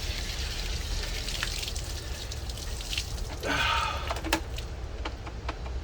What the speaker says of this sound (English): Water is on, and she's leaking everywhere.